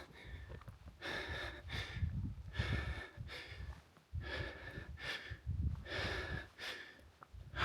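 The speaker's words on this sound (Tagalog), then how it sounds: "Alisin ko lang yung hingal ko." Heavy, ragged panting from someone catching their breath at the cold summit of Mt. Timbak in Atok, Benguet: close, loud gasping breaths in an uneven rhythm, about ten in quick succession.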